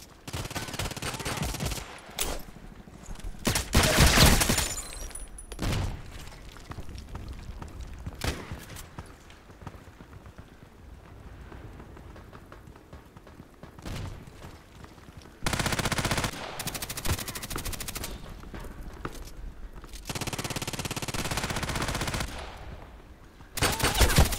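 Loud bursts of automatic gunfire from the video game Contract Wars on the Bay5 map, rapid volleys repeated throughout with short quieter gaps between them.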